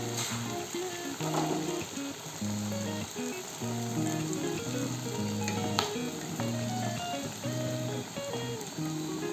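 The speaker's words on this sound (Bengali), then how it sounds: "তেলটা গরম হয়ে গেছে। এখন আমি এক এক করে পিঠাগুলিকে ভাজার জন্য" Chana pitha sizzling in hot oil in a wok, giving a continuous crackling hiss mixed under prominent background music. There are no voices.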